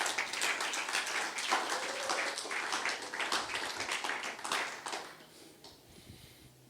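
A church congregation claps for several seconds, a dense burst of applause that thins out and dies away near the end.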